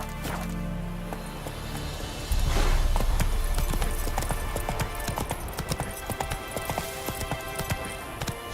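Roach, a horse in The Witcher 3, trots along in a steady clip-clop of hooves, loud and near, becoming denser after a couple of seconds over a low ambient bed.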